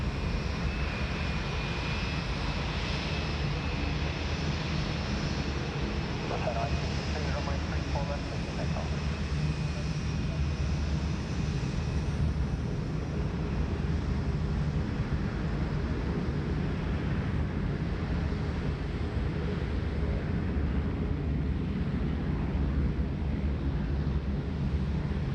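A China Southern jet airliner taxiing at Sydney Airport gives a steady, continuous engine rumble and whine that holds through the whole stretch, with faint talk underneath.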